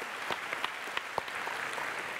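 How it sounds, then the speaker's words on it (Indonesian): Audience applause for Sandiaga Uno at a Mata Najwa live broadcast at Ciputra Artpreneur, a fairly faint, steady wash of clapping with a few sharper individual claps standing out. "Tepuk tangan sekali lagi dong untuk Mas Sandiaga Uno."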